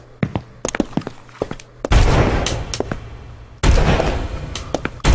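Gunfire in a video game, bullets fired at scuttling mice: sharp isolated shots early, then two loud sustained bursts of rapid fire, close and dense.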